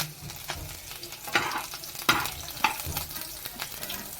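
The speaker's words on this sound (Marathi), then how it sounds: "कांदा शिमला मिरची लसूण कोथिंबीर मिरची लसूण टाकून घेऊया" Onion, capsicum, garlic and chili frying in a pan for prawn chilli, with a steady sizzle and a few sharp scrapes of the stirring spoon, close and moderately loud, no talking.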